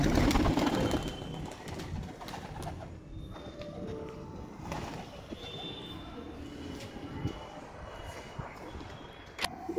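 Madras pigeons in a home loft coo in low, repeated murmurs, close by, over a steady background with a louder burst of movement at the start and a sharp knock near the end.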